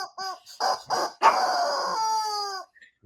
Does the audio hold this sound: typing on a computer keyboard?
no